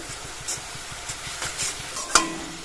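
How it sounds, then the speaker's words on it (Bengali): Ground turmeric, chilli, cumin, coriander and garam masala fry in oil for an egg and potato curry, a soft steady sizzle broken by rhythmic scraping strokes of a spatula and a sharp clink near the end. "মশলাটা কষিয়ে নেব তেল ছাড়া পর্যন্ত।"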